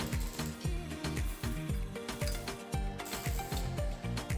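Ratchet wrench with a size 16 socket turning the brake caliper screws on a Mini One R56 during a front brake change, a fast rhythmic clicking repeated in steady strokes, close and clear with no talk.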